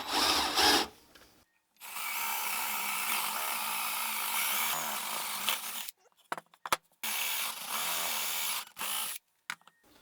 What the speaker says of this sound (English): what I'm going to use to cut this hole is a 1-inch paddle bit that you can buy at your local hardware store. Put the center on there and drill down